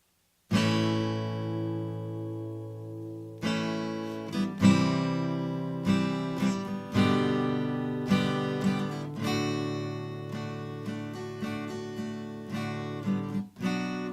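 Strummed acoustic guitar chords ring out one after another in a slow, steady progression, each strum sustaining before the next change.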